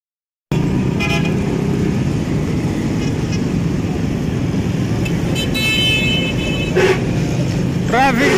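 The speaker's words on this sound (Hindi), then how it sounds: "ट्रैफिक के हालात देख लो भैन" Busy street traffic in Lahore rumbles steadily close by, with several car horns honking, short toots scattered through the middle and end.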